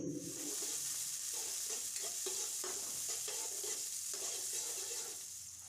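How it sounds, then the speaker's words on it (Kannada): Green chillies, onion and curry leaves frying in a pan with a steady sizzle, broken by several soft scraping stirs, close and fairly quiet with no talking. "ಗ್ರೀನ್ ಚಿಲ್ಲಿ, ಈರುಳ್ಳಿ, ಕರಿಬೇವು ಫ್ರೈ ಮಾಡಿ ಬ್ರೌನ್ ಕಲರ್ವರೆಗೂ"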